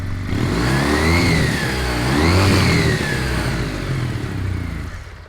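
Loud motorcycle engine revving high to 7000 RPM, the pitch climbing and dropping in repeated throttle sweeps before settling back.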